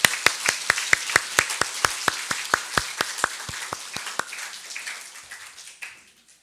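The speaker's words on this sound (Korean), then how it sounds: "우리 힘찬 박수로 축복합니다." A church congregation claps together in blessing, a run of sharp, fairly even claps at a steady rhythm that slows and thins out after about four seconds, leaving a faint murmur behind.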